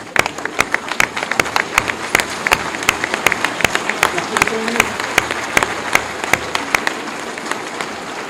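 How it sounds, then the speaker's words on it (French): Graduation audience, standing, applauding the university's faculty and administrative staff; sharp individual claps ring out in a steady, fairly sparse rhythm throughout, with a brief voice murmuring in the middle. "je souhaiterais qu'on soit tous debout et qu'on applaudisse le corps professoral et le personnel administratif de l'université"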